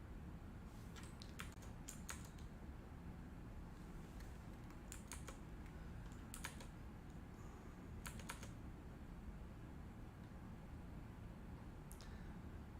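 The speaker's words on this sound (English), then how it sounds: "Y'all can hear me typing." Steady typing on a computer keyboard during a coding session, quiet clusters of key clicks in short bursts with pauses between, over a low background hum; no voices.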